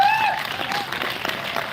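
Audience applause at a Hindi-language direct selling training session for IndiAgro, a broad steady clatter of clapping filling the room throughout, with a faint voice briefly audible at the start.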